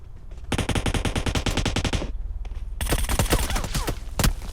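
Automatic gunfire in the mobile battle royale game PUBG Mobile: rapid, loud bursts of rounds in a tight rhythm, a long burst first, then a brief pause and a second ragged volley with heavy impacts, all close and dense.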